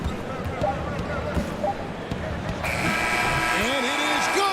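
A basketball arena's end-of-period buzzer in an NBA Western Conference game sounds partway through, a loud sustained electronic tone rising over the crowd roar and excited commentary, with squeaking sneakers and bounces heard before it.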